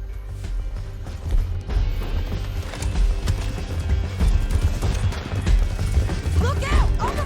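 Horses gallop in a Red Dead Redemption 2 game scene, a steady drumming of hooves with clattering and rumbling effects, continuous and fairly loud, with brief voices over the ride.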